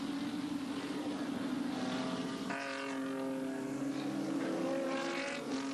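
Group A touring cars racing at Amaroo Park in 1986, several engines droning steadily with harmonic whine and a shift in pitch as cars pass, heard at a distance under faint crowd ambience.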